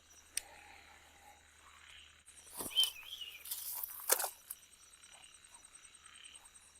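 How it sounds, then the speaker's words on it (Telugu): Gondra frogs croaking at night near a check dam in an outdoor camping setting, with intermittent calls building into a busier chorus mid-clip over a steady insect drone, moderately near. "ఇది గోండ్ర కప్ అంటాం దీన్ని."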